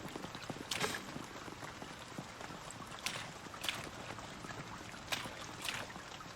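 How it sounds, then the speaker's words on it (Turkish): Rain falls softly in Internet Cafe Simulator 2, a continuous faint patter with a few sharper drips and splashes scattered through it, heard alone and at low volume. "Oo yağmur yağıyor. Yağmur efektleri güzel."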